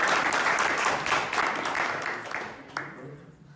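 Applause from a conference audience at a web development talk: a dense wash of many hands clapping at once, loud at first and then thinning out and fading toward the end.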